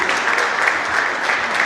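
A theatre audience claps continuously, a loud, dense wash of applause with no break across the short stretch.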